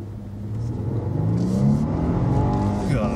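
A 2018 Lexus LS 500 in Sport Plus mode accelerates hard, its engine note climbing steadily in pitch through a gear change, loud and close from inside the car with no talk over it.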